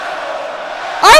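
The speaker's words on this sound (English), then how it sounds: "Listen to this crowd!" Wrestling arena crowd in the WWE 2K video game, a steady low murmur of crowd noise followed by a loud, short shout at the end.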